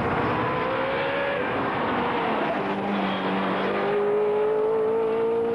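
A Ferrari sports car engine revving, loud and sustained, with a rising whine that climbs in pitch across a few seconds over a continuous roar.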